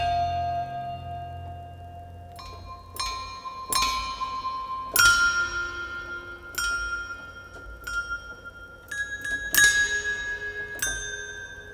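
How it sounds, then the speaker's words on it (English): Sampled meditation bells from the NADA virtual instrument library ring out one by one, a series of bright, sustained metallic strikes with long decaying tails overlapping each other, no voices present. "Meditation bells 4."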